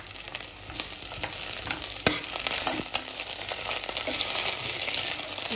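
Onions and ginger garlic paste frying in a pan for a Goan prawn pulao, a close, steady sizzle with a few sharp clicks from stirring, no talking.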